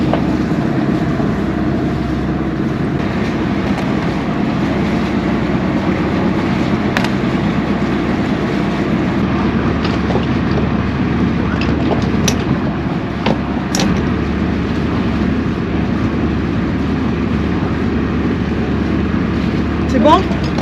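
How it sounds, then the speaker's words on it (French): The engines of a catamaran run steadily as the anchor is raised, a continuous low rumble with wind and water noise throughout and no break. "On a les moteurs allumés, on lève l'ancre."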